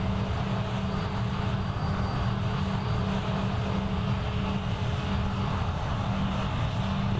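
Airplane engines in a flight simulator video game drone loudly and steadily, a constant rumbling hum with no change in pitch and no voices.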